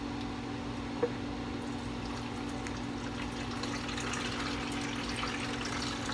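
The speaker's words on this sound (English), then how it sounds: "I'm just going to drain these off into this bowl that we mixed the meatloaf into" Cooking water from boiled carrots pours steadily from a pot into a mixing bowl, a continuous soft splashing stream at close range with a faint background hum and no talking.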